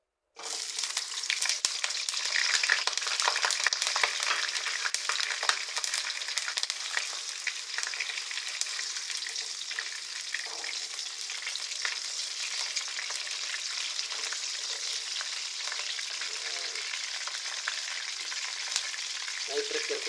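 Hotdogs drop into hot cooking oil and start a loud, dense crackle and spatter that settles into a steady sizzle for the rest of the time, close up and with no talking.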